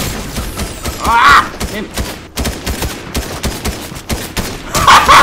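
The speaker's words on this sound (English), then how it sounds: "Fucking drum shotguns." Drum shotguns fire repeatedly in Fortnite, a dense, loud run of booming blasts with rapid rhythmic bursts throughout, and a player shouts briefly over the gunfire.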